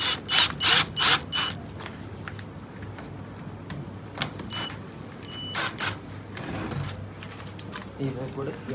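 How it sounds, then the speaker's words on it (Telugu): Screws an inch long being tightened into an aluminium mirror frame: a few loud mechanical ratcheting bursts at the start, then sparser clicks and tool rattles over a steady background hum. "మళ్ళీ ఇవి 1 ఇంచ్ స్క్రూస్ మళ్ళీ హోల్స్లో ఇలా పెట్టేసుకొని టైట్ చేసేసుకోవాలి."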